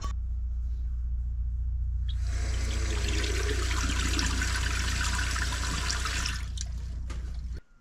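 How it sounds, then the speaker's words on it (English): A shower bilge pump on a boat runs steadily, pumping water out with a low, continuous rumble and a brighter rushing wash partway through, stopping near the end. "This is the bilge pump for the shower,"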